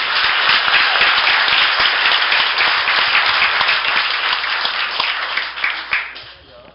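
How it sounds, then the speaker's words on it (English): Audience applause for pool player Earl at an 8-ball match event, steady dense clapping from a crowd that holds for several seconds and then tapers off toward the end. "Let's give Earl a nice round of applause."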